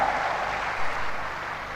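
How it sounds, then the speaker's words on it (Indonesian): Audience applause at a motivational seminar, a broad, continuous wash of many people clapping together, moderately loud and steady, with no talk over it. "Tepuk tangan untuk Anda."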